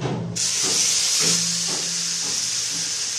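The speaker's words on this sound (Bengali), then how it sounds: "এবার দিয়ে দেব পেস্ট করা মশলাগুলো।" Spice paste hits hot oil already seasoned with whole cumin and bay leaf for a lightly oiled mutton kosha curry, bursting into a sudden loud sizzle that settles into a steady close hiss with a few soft stirring bumps.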